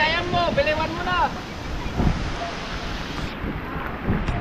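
Gusty typhoon wind swirls and rushes around the microphone in a sustained broadband roar, with a brief tonal squeal early on and occasional louder bursts; a voice is faintly present.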